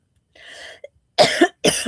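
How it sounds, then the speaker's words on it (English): Two sharp, harsh coughs follow a softer, breathy throat sound, close and loud with brief pauses between them. "it's the water that's making me cough"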